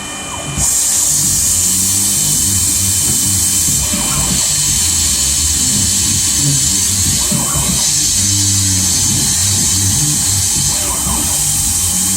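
A CNC mill (PM-30MV) cutting aluminum with a 3-flute 1/4 inch end mill gives a steady, loud high-pitched whine over a low mechanical rumble, holding continuously for the whole stretch after a brief quieter start.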